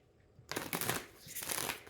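Moonology oracle cards are shuffled close up in a quiet room: a brief flurry of papery riffling and card slaps in two short bursts, with no talking.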